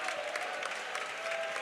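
A church congregation at a prayer centre claps hands together, a dense, steady wash of applause filling the short moment at moderate volume, with a faint sustained tone beneath.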